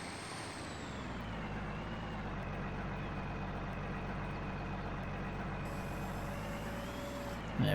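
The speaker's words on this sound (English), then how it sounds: "Tractor is struggling a bit though." A tractor engine in Farming Simulator 19 drones steadily under a heavy load, a low continuous laboring rumble with a faint high whine, holding constant before a slight swell at the very end.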